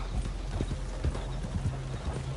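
Horse hooves clip-clop in a steady walking rhythm in the video game Red Dead Redemption 2, close and distinct over a low ambient hum, with no talking.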